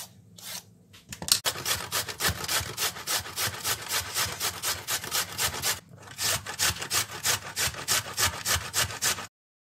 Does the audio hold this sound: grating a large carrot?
yes